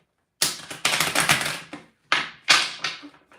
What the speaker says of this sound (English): I'm going to do a quick split shuffle.